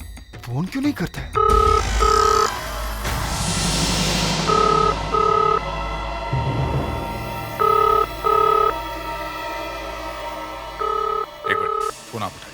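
An old-style telephone rings in repeated double bursts, fairly close, over steady background noise and some rumbling, with people talking in the room.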